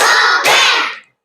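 A classroom group claps together in a loud, dense burst that splits into two quick beats of many hands at once, then fades out.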